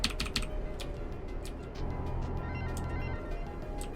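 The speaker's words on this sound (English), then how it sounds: "I love this keyboard. It's great to type on, but it's like it's getting too loud." A loud, clacky computer keyboard being typed on, with quick bursts of sharp key clicks close up, pausing and resuming in an irregular rhythm over a low background rumble, with no voices.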